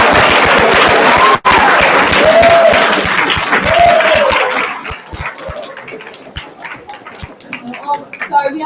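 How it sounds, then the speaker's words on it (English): An audience claps in a full, loud round of applause at a Junior State of America event; the applause thins out into scattered claps, with a few voices heard under it. "Could we just get a big round of applause?"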